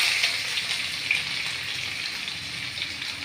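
Curry leaves and sliced onions drop into hot oil for a bitter gourd tamarind curry, giving a steady, fairly loud, rain-like sizzle that holds evenly throughout with no talking.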